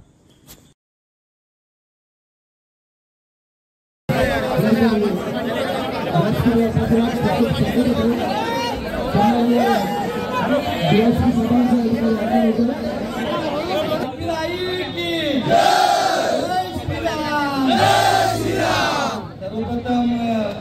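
Large, dense crowd at a bullock cart race in Konkan, a loud continuous roar of chatter and shouting that bursts in after about four seconds of near silence, with voices calling out over it.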